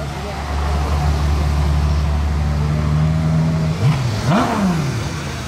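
A Ferrari F12 TDF supercar in front of a casino, its engine droning steadily before rising and falling in a couple of sharp revs near the end, close and loud, with people talking over it.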